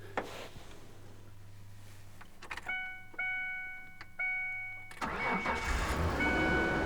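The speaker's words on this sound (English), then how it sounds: "now we're going to see if this thing will crank." An early-2000s Ford Ranger engine cranks in a few short bursts of starter whine, then catches and settles into a steady, loud running rumble close by; a faint tonal chime sounds during cranking.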